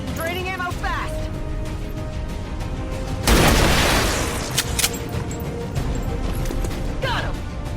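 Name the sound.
gunfire in a video game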